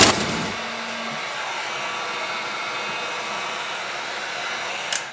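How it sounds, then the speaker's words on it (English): A heat gun blows a steady, loud broadband hiss for the whole stretch while used on Kydex sheet for a holster, with a brief low hum near the start and a small click at the end. "Heat gun. Plug."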